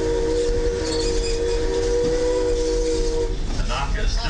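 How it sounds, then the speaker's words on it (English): A steam locomotive whistle on the Lahaina, Kaanapali & Pacific Railroad blows in a long sustained tone over the chugging rumble of the train, then cuts off as rail noise continues. "That whistle you just heard belongs to our first locomotive"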